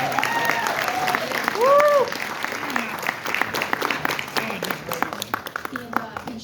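An audience at a Boston city school meeting claps for an award recipient, a burst of applause that tapers into scattered claps while voices carry over it.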